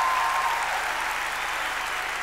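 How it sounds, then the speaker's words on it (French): Audience applause fills a concert arena at the Zénith de Paris, a dense, steady wash of clapping from a large crowd that holds at an even loudness throughout. "on peut les applaudir très très fort s'il vous plaît"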